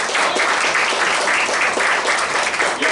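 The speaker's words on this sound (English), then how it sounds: "You don't need to clap." Dense, sustained applause from a political meeting audience fills the whole stretch, loud and even with no gaps.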